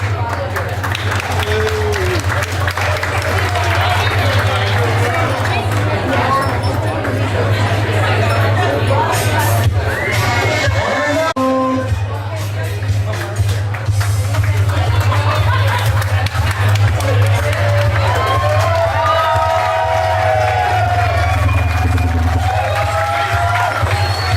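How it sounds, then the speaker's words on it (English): Guests at a wedding reception applaud and cheer with steady clapping and scattered whoops, a dense crowd sound over a continuous low hum, with voices talking through it. "Give a round of applause."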